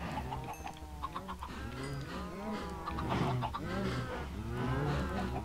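Several chickens in Minecraft clucking repeatedly in short, overlapping bursts, close and fairly loud against a low background hum.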